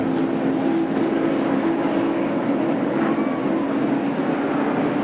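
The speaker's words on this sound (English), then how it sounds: "Look at all the cars going down on the flat part of the racetrack here." Stock cars roar in a steady, loud wash of engine noise as the NASCAR Winston Cup field runs the flat stretch at Dover Downs in 1994, a continuous droning pack with no break.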